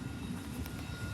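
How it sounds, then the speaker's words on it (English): A small train passes in a steady low rumble that holds for a brief moment, fairly faint and with no voices over it. "Oh, it's a small little train."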